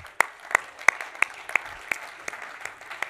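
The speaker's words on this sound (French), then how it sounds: "Allez, applaudissements pour nos invités." Sparse, slow clapping for guests at a sports turf event, about a dozen distinct sharp claps in a steady rhythm, fairly close.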